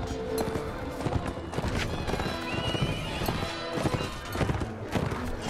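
Horses galloping in the Mount & Blade: Warband battle game: dense, rapid hoofbeats with neighs and whinnies mixed into busy clashing combat noise, loud and continuous.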